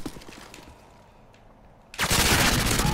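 P90 submachine gun firing in Modern Warfare 2, with a few scattered shots early on, then a sudden loud, continuous automatic burst at the end.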